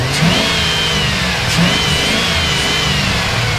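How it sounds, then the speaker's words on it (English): A 2003 Chevrolet Silverado LT Z71 4x4 pickup revs up and back down under the hood, a steady mid-range engine drone with two quick rises in pitch, loud and close, no talking. "Revs really good."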